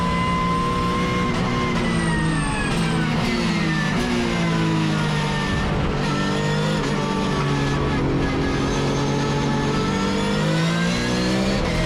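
Porsche race car at Zandvoort Circuit under full throttle, the engine loud and close, revving up through rising gear pulls with shifts between them, continuous for the whole stretch.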